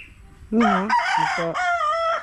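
A rooster crows a single full, loud cock-a-doodle-doo close by, rising and holding before ending, with no one talking.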